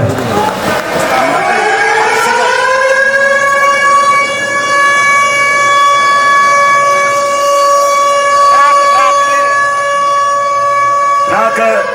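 A loud siren at the start of a Gothuruthu Muziris snake boat race in Kerala rises to a sustained wailing tone and holds steadily for many seconds, with brief noisy bursts near the start and end.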